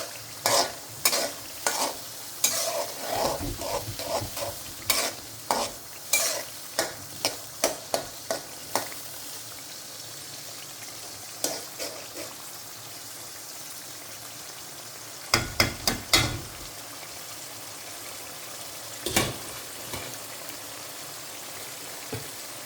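Spice paste being stir-fried in a pan gives a low sizzle under repeated sharp scraping strokes of a spatula, rhythmic at first, then sparse bursts after a quiet stretch.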